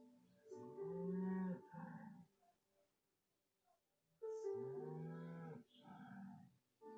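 A mother cow on a farm moos loudly and repeatedly, calling for her calf, with two drawn-out lowing calls separated by a quiet pause.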